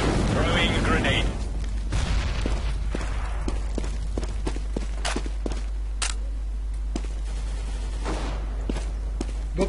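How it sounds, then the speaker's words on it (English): A grenade blast in the game CS:GO, with sharp explosive bursts and gunfire-like pops over steady background noise, alongside footstep sounds and a voice calling out early on. "Throwing fire. Throwing grenade."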